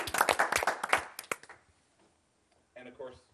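A small audience breaks into brief, close clapping that fades out after about a second and a half, followed by near silence and then a voice speaking.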